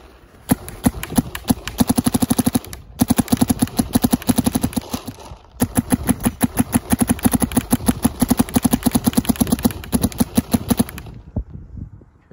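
Luxe X paintball marker firing soft tip bolt rounds on semi-auto in near-freezing weather, a long fast close string of sharp pops broken by two short pauses.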